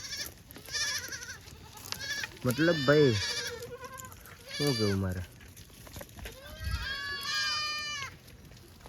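Goats bleating in a village setting, several wavering calls from close by, some overlapping, with people talking in between and over them.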